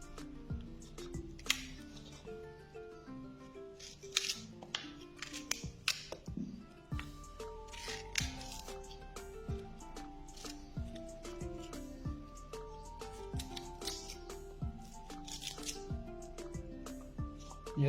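A knife cuts fresh peaches and pries out the pits, giving a string of small close clicks, taps and soft squishy slices at an uneven pace, with faint background sounds and no talk.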